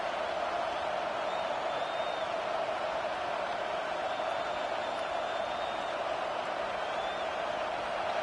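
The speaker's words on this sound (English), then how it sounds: "Here comes the noise from this big crowd in Happy Valley on 3rd down" A big football stadium crowd in Happy Valley roars steadily on third down, a dense, constant wash of distant voices filling the whole stretch with no break.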